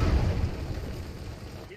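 Artillery fire in the video game Enlisted: one deep, heavy boom at the start that rumbles and fades over a couple of seconds, with voices over it.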